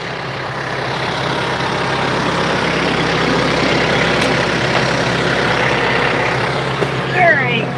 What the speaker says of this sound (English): Jumping in the tractor, doing some work.